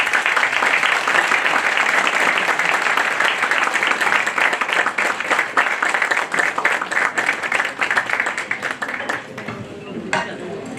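Sustained applause from a seminar audience at a talk session, dense and steady clapping close by for most of the stretch, thinning and tapering off near the end.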